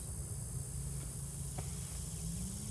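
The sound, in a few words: bees buzzing at an apiary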